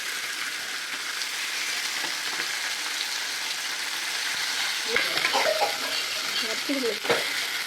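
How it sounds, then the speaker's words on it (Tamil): Fish sizzles steadily in hot oil in an iron kadai, a close, constant crackling hiss, with a few clinks and stirring clatters partway through. "இது வந்து நல்லா இரும்பு கடாயாக இருக்கு பாருங்கள் மீன் வறுக்கிறதுக்கு நல்லா வசதியாக இருக்கு பாருங்கள்"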